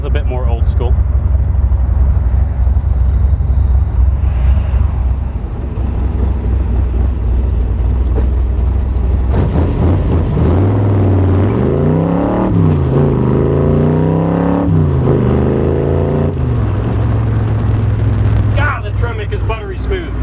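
Shelby-style Cobra roadster with a 480 cubic inch stroker V8 and 5-speed manual accelerating, a loud, steady low engine drone that rises in pitch through revs and gear changes, close by and continuous, with a voice talking over parts of it.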